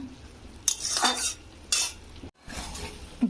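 A lid is lifted off a pot of boiled masoor lentils on a kitchen stove, with loud close metallic scrapes and clanks in several short bursts.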